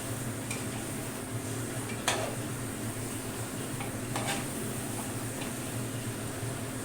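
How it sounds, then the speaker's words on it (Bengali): Mutton curry stirred in a cooking pot during long browning: a few metal scrapes and clinks over a constant hiss of cooking, with no voices. "খাসির মাংস রান্না করে প্রচণ্ড নাড়তে হয়, অনেকক্ষণ ধরে কষাতে হয় তো"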